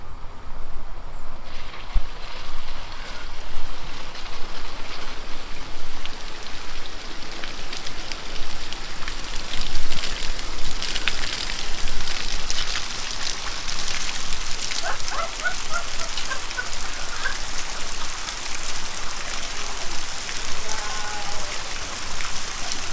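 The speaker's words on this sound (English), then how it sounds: "Okay, turn on the rain!" Artificial rain from diverted well water sprays onto the top of an ecovillage building: a continuous, even patter and hiss of falling water, sustained throughout with no talking.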